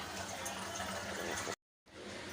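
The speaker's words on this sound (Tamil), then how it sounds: "இப்போ இது எல்லாமே சேர்ந்து நல்லா கொதி வரட்டும்" Toor dal simmering in a pot with its soaking water, a soft continuous bubbling wash of liquid, faint and close, broken by a short silent gap before resuming.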